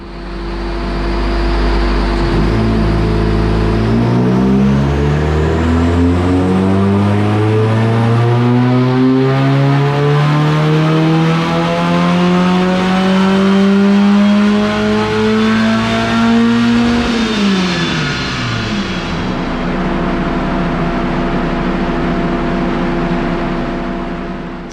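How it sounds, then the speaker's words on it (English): A 350HP VW Golf engine on a dyno winds up in one long, loud power run, its pitch climbing steadily before the throttle closes and it drops back to a lower drone, with no talk. "we're going to do one more power run, and we're going to see if it makes any more power with that off"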